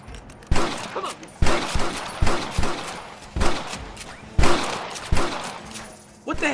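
Gunfire in the Red Dead Redemption video game: about seven loud, sharp shots crack out at uneven intervals, each followed by a short decaying tail.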